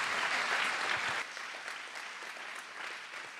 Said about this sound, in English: let's give a round of applause to all these guys